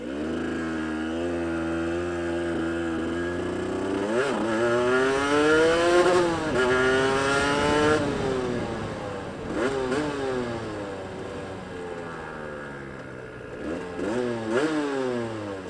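A fuel-injected four-stroke Yamaha YBR hire motorcycle rides around the block, its engine loud and close, revving up and down in repeated rising and falling sweeps with no voices over it.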